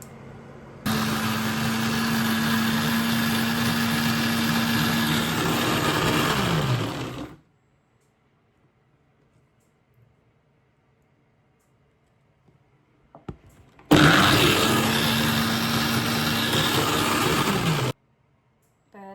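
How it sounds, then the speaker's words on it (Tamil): An electric mixer grinder whirs loudly in two bursts, the first about six seconds and the second about four, with silence between, grinding ingredients under a closed lid. "இப்போ மிக்சியில் அரைக்க போகிறேன்."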